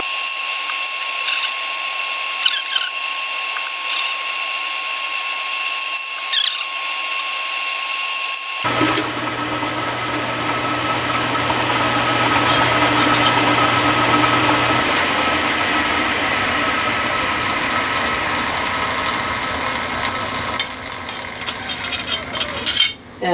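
A milling machine drills holes in metal for railing brackets, with a steady whirring motor and a grinding, chattering cut that runs continuously, close and fairly loud, after a quieter stretch of humming.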